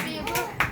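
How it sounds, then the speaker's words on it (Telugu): A few people clapping hands at a wedding anniversary celebration, short bursts of claps mixed with voices and children nearby. "క్లాప్స్ కొట్టిరా."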